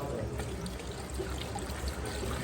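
Water streams out of a motorcycle in a steady, continuous pour, an even splashing trickle heard close up with little talk around it.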